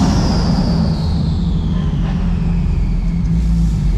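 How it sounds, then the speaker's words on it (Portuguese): A GT2 RS sports car engine gives a steady, loud, close rumble that holds for several seconds, with no talking. "Barulho desse GT2 RS."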